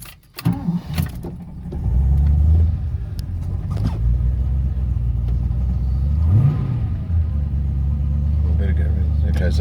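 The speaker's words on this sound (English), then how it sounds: "Okay, so it's come on to fast idle again." Ford XD Falcon V8 engine with a choke problem settling into a fast idle, a steady low rumble with a brief rev partway through, close by under occasional talk.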